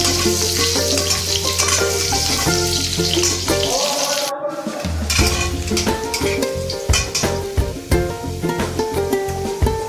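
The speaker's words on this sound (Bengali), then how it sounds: "আলুগুলো একটু ভেজে নিই লাল লাল করে" Potatoes sizzle and crackle steadily in hot oil while being fried until reddish, with clinks of a utensil stirring the pan and a brief dip in the frying sound midway.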